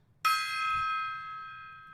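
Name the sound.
Tibetan singing bowl being struck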